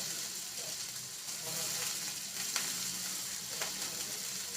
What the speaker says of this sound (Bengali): এটাকে আমি মোটামুটি ভেজে নেব যাতে আলুটা সেদ্ধ হয়ে যায়